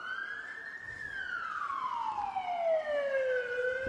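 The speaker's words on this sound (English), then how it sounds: "There's our first ambulance for the day." An ambulance siren wails in a single long sweeping tone, rising and then falling, loud and steady as it passes near the outdoor lawn bowls green, over a soft background rumble of traffic.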